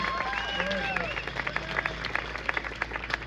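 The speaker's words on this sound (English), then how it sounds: "let's give him a round of applause." A US Senate campaign rally crowd applauds, scattered clapping and crowd noise at moderate distance, with brass band tones and voices mixed through it.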